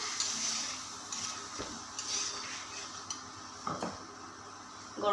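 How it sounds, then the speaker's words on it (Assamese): Masala spices frying in a pan while being stirred, a soft sizzle beneath repeated scraping and clinks of a utensil against the cookware, close and fairly quiet, no talking. "তাৰপিছত মছলাখিনি ফ্ৰাই কৰিম"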